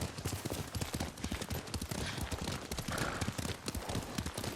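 Hooves clip-clop in a steady galloping rhythm as a horse is ridden in Ghost of Tsushima, close and continuous with a faint wash of ambience behind.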